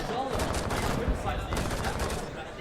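A magazine is dumped in a rapid stream of automatic gunfire in Rainbow Six Siege during a collegiate esports match, with a caster talking over the shots.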